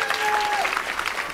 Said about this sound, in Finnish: Annetaan hänelle kunnon aplodi.